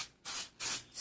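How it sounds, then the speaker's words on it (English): Nonstick cooking spray from a can misted into a baking pan in two close hissing bursts, then a third starting, quiet and near. "spray it with some nonstick spray."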